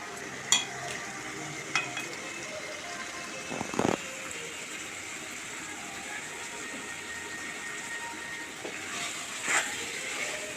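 A bitter gourd and tomato curry with coriander is stirred in a pan over a soft, steady sizzle, with a few light scrapes and clinks of the spoon against the pan.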